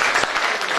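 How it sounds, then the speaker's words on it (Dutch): An audience at an award ceremony in Tilburg applauds as a speaker is introduced, a brief burst of dense, steady clapping filling the room. "Geef hem een applaus, hier is Twan van Korven."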